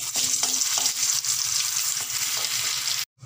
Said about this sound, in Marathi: तेल झालेलं आहे. 1 चमचा आलं लसणाची पेस्ट टाकते.